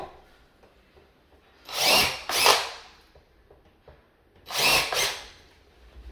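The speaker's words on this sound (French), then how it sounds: "maintenant, j'arrive pour prépercer les trous" A power drill bores pilot holes for the bracket screws of an indoor fabric blind frame, two separate pairs of short, loud whirring bursts with quiet pauses between.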